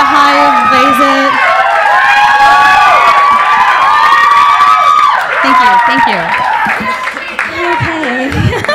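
A stand-up comedy audience cheering and whooping for a comedian, loud sustained crowd noise with shouts and voices, the cheering fading slightly toward the end as talking rises.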